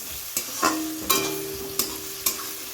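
Onions and spice paste made with ripe green chillies fry in a pan, a soft steady sizzle broken by several sharp scraping stirs, close and without speech.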